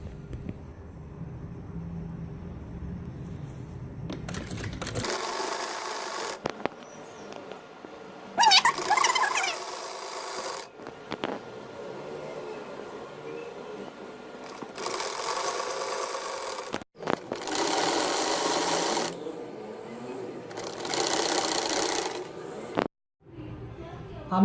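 A sewing machine sews the shoulder seams of a six-month baby boy's shirt in several loud bursts of rapid stitching separated by pauses, close up, with someone talking in the gaps.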